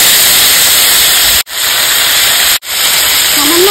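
Whole cumin and ground spice paste sizzling in hot mustard oil in a home kitchen: a loud, steady, close hiss of frying, cut by two brief gaps.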